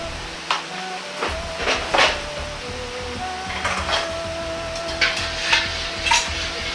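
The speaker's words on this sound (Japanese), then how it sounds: "ニンニクと唐辛子を入れ炒めます。" Garlic and chili peppers stir-fry in hot oil in a pre-heated wok, a steady sizzle broken by repeated scraping and clinking strokes of a spatula against the pan.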